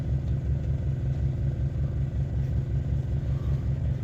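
A small motor throttled down to low speed spins a cheap PMA generator, giving a steady, loud low hum with a regular pulsing rhythm and no talk.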